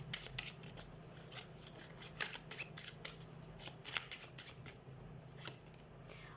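Tarot cards being shuffled during a love reading: a run of soft, papery riffling and slaps close by, with a faint steady hum underneath and no talking.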